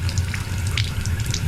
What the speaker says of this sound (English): Let's turn our hot water on.